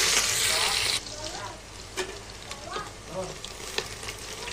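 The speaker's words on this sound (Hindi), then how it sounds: "अब यहाँ पे ऑयल गर्म हो चुका है, अब हम डालेंगे इसमें प्याज, देंगे अच्छा सा तड़का।" A loud burst of sizzling as onions hit hot oil, then quieter frying crackles and stirring scrapes continue, with faint talk in the background.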